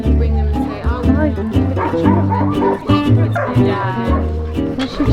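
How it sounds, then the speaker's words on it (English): Paralysed dogs at a shelter bark, yip and whimper in a busy, overlapping chorus up close, nearly continuous throughout. "So these are all the paralysed dogs."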